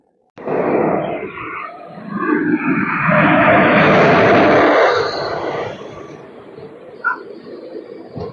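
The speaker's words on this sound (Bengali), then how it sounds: "ছেড়ে দিল আমাদের ট্রেন সালা স্টেশন থেকে" A train pulls out of Nabadwip-area Sala station, starting with a heavy, rumbling roar that swells over several seconds, then eases into a lower, steady clatter.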